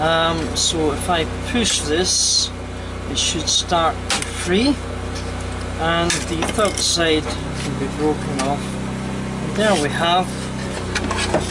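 Neighbour's pressure washer cleaning a driveway, a steady mechanical hum running in the background under close talking and some clattering from nearby work.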